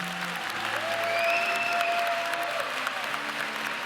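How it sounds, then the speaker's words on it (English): Audience applause at a 2017 graduate school of education commencement, steady clapping from a large crowd for education specialist graduates, with a faint tonal whistle or feedback line running through it. "Please join me in giving a round of applause for the education specialist graduates."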